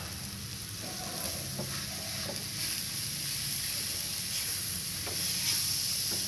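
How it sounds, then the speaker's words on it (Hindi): Large radish pieces frying in spice masala for radish parathas, a steady soft sizzle with occasional faint stirring scrapes, fairly quiet and continuous with no one speaking. "अब इसको भी मसाले के अंदर फ्राई कर लेंगे अच्छे तरीके से।"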